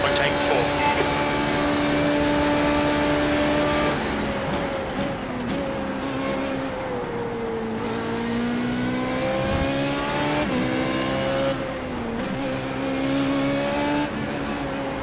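A Formula Renault 3.5 racing at Suzuka in iRacing, its engine droning loud and steady through the whole stretch, pitch rising and dipping through gear changes and corners, with a few brief lifts.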